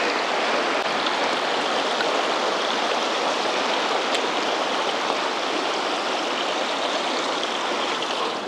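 Clear turquoise river water rushing steadily over rocks at a shallow crossing in the Albanian countryside, a loud, dense, unbroken flow close by with no voices.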